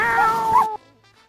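A voice imitates a cat with a drawn-out meow, loud and close, followed by a short tail of quiet room sound.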